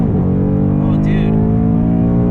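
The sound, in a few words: 2019 Ford Mustang GT Track Pack accelerating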